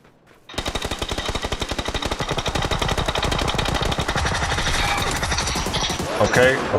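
Rapid bursts of automatic gunfire in the video game PUBG, a dense, loud run of shots repeating steadily for several seconds, with a faint voice underneath near the start.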